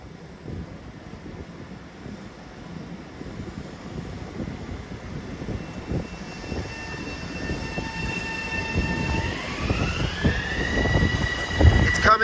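An M3 electric commuter train rumbles steadily closer, its roar building over twelve seconds, with a rising electric whine and wind buffeting the microphone.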